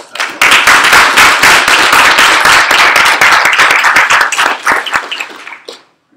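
Loud, close applause from a student senate meeting audience, dense clapping that holds for several seconds, thins into a few scattered claps and stops.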